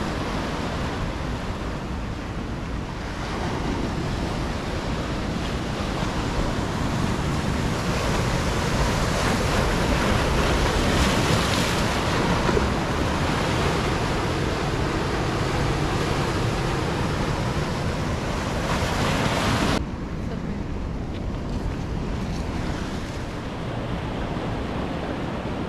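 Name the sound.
ocean waves breaking on an Oahu beach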